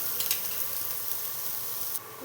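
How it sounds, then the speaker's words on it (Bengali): Chopped garlic fries in hot refined oil, giving a steady, even sizzle and hiss with a few faint crackles, no voices. "তেলটা গরম হয়ে গেছে, এর মধ্যে বেশ খানিকটা কুচনো রসুন দিয়ে দিচ্ছি। প্রথমে রসুনটা একটু ভেজে নেব হালকা করে।"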